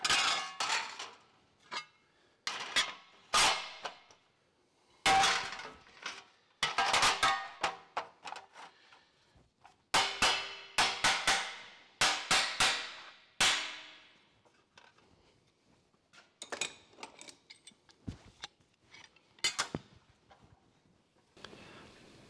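Repeated sharp metallic hammer blows on the edge of sheet metal for a custom tailgate, struck close up in quick bursts with short pauses between runs of strikes, no talking.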